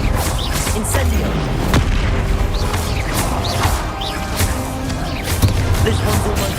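Hogwarts Legacy combat with fire-spell blasts: repeated booming, crashing impacts and crackling magic effects layered over game music and battle noise, loud and dense throughout.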